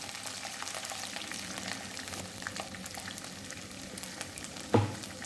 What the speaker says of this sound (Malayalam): വെളുത്തുള്ളി ഒരുവിധം ഒന്ന് വഴറ്റണം